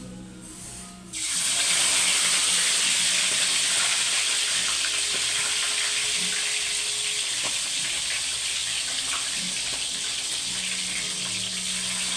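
Chicken barbecue pieces dropped into deep hot oil, a sudden loud sizzle that bursts up after a second and then holds as a steady, close crackling hiss.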